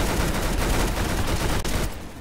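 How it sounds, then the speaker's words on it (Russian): Dense, continuous gunfire from teammates in Roblox Arsenal, a loud overlapping stream of rapid shots with one split-second gap before it fades slightly at the end. "это наверху мои стреляют"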